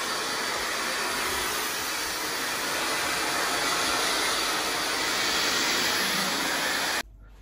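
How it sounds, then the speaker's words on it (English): A hair dryer runs steadily on hair during an at-home red hair dye job, a loud, continuous broadband whoosh lasting about seven seconds before cutting off abruptly, leaving a faint hum. "We must dry the hair."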